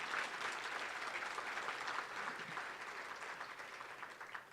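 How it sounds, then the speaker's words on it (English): An audience at the 2018 Vogt Achievement Awards applauds an honoree, Mr. Heiser, with steady, dense clapping that holds evenly for several seconds at a moderate distance and fades slightly toward the end. "So one more round of applause for Mr."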